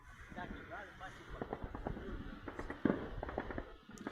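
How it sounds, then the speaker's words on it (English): Distant explosions and gunfire in war footage near Izmail, Ukraine, with air defense fire: scattered sharp pops and one stronger blast over a dull rumble, with faint voices in the background. "We can see one pop of an explosion."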